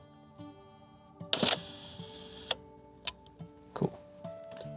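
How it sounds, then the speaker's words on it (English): A camera shutter fires for a one-second exposure with a polarizer at f/32 in Zion National Park: two faint clicks about a second apart, then more soft ticks against quiet outdoor background. "we're gonna shoot at a full second because I have a polarizer on the end"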